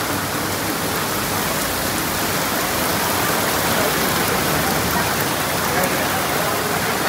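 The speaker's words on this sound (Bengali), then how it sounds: "বাইরে বৃষ্টি" Steady, heavy rain pours outside Mustafa Centre in Singapore, a dense, even hiss that runs unbroken the whole time with no voices over it.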